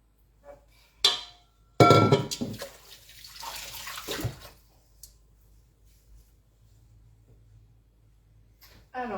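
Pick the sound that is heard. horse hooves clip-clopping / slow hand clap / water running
water running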